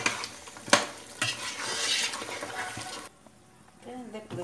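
Ginger and garlic stirred in a hot pan, a steady scraping and sizzling with sharp clinks of a utensil against the metal for about three seconds before the sizzle drops away to quiet.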